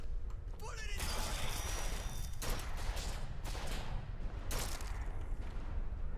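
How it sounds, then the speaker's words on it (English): Gunfire in the video game Bioshock Infinite: dense, continuous combat noise with several sharp, loud shot bursts rising above it, mixed with a voice talking throughout. "Where are we getting shot from?"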